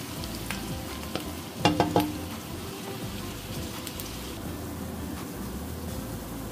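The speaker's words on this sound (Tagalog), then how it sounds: "Gisahin lang muna natin siya bago natin i-add yung pork." Garlic and ginger sautéing in a pan, a steady close sizzle throughout with a few brief clinks of a utensil against the pan.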